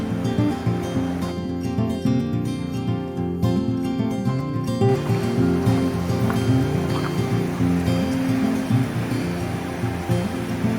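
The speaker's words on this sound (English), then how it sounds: "There's like a waterfall stream to the right of us." A waterfall stream rushes beside a troll car on the way to Briksdal Glacier near Olden, Norway, a continuous loud broadband roar of falling water mixed with vehicle rumble, steady throughout.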